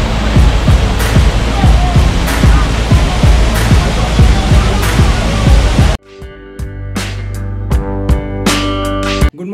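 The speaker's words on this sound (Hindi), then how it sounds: "पानी का फ्लो खूब फास्ट है" Fast-flowing water near a waterfall on a trek close to Neral station, a loud dense rushing roar that breaks off abruptly toward the end, giving way to quieter, sparser sounds.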